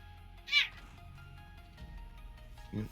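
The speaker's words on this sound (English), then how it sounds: "Cat's screaming at you." A pet cat lets out one short, sharp yowl near the start, with a lower brief cry near the end, both fairly close over a quiet room hum.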